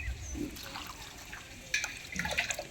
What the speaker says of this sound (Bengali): আর এখন আমি জল দিয়ে দিচ্ছি এর ভেতরে।